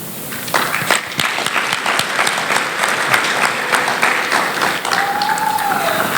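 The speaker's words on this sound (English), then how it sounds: "You deserve a round of applause." A crowd at a nursing college graduation ceremony applauds, with steady clapping that holds throughout at full volume, a few sharper claps standing out and a brief whistle or cheer near the end.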